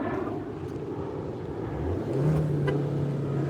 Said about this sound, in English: Rev it. Let's hear that.